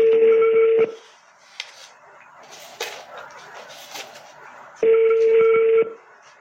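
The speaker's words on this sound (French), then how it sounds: "Mais ça sonne, il ne décroche pas." On an outgoing phone call that goes unanswered, a steady ringback tone sounds twice, each ring about a second long. Muffled background noise and faint voices fill the pause between the rings.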